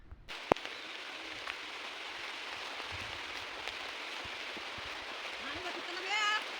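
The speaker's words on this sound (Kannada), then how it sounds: "ಮಳೆ ಅಲೆ ಸಣ್ಣದಾಗಿ ಸ್ಟಾರ್ಟ್ ಆಗಿದೆ ನೋಡ್ರಿ" Steady rain falling on a road outdoors, a continuous close hiss of drops with a brief knock early on and faint chirps near the end.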